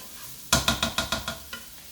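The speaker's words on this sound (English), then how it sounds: "Just going to stir those up since they're getting a nice sizzle." Six or seven quick scraping strokes of stirring beans in a pan, over a soft background sizzle, close up and with no talking.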